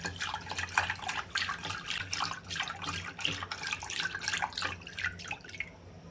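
Water is poured into buttermilk for mattha, a spiced buttermilk drink, and stirred. Close, continuous liquid splashing and swirling runs for about six seconds with small drip-like bursts and no talking.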